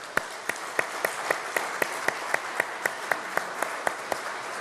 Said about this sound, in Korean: 우리 다 함께 힘차게 감사의 박수를 우리 하나님께만 올려드리겠습니다.